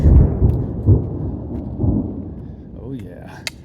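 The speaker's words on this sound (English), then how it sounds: "There's a lot of thunder." Low rumbling thunder rolls through rain on a rocky forest trail during a hike, with broad low booms swelling and fading repeatedly in the distance over steady rainfall, with a faint sharper tick near the end.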